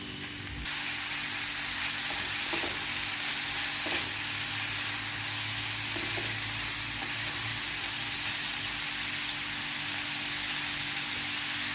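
Sprouted horse gram sizzles steadily in a hot pan with oil and salt as it is stirred, making a continuous close frying hiss with faint scraping taps and no talking.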